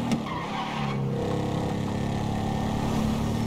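A car engine in GTA 5 hums continuously while driving, with a brief tire squeal or skid at the start, then a steady mid-level engine drone throughout and no talk.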